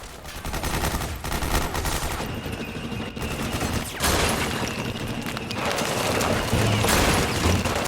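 Heavy gunfire from the video game Metal Gear Solid 4: Guns of the Patriots, with dense bursts of automatic fire and booming shots that run loud and continuous across the scene, along with explosive impacts and no talk.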